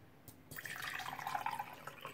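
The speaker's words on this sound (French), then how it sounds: "Et vous versez de l'eau sur ça." Water poured over coarse salt in a clear glass, a close, steady splashing trickle that starts abruptly and runs continuously to the end.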